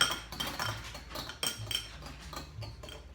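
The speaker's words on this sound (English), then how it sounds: "So then once we've beaten those eggs" Eggs being beaten in a mixing bowl, a quick run of light clinks and taps as a utensil knocks against the bowl, fairly faint and close, with no voices.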